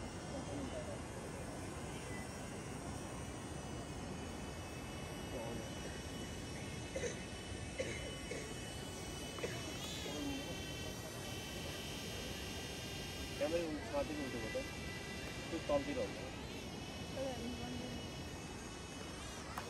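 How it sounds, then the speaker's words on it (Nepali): A drone flying overhead on a mountain trek near Kapuche Lake and Kori in Nepal, a faint steady whine with wavering pitch sweeps over constant outdoor background noise. "ड्रोन पनि उडिरहेछ, हल्का देख्दो रहेछ"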